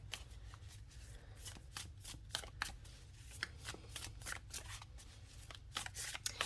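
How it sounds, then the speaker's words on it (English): Quiet, close riffling of a deck of cards being shuffled, with repeated soft bursts of flapping card edges over a low hum. "I really like shuffling this deck because of its size."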